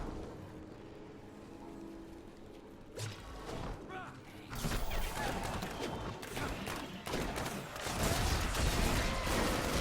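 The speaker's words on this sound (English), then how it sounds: "even though I have turrets way back there, they're still firing" Turrets firing in Destiny 2, a dense wash of rapid gunfire and impacts building louder over time, with faint talk beneath.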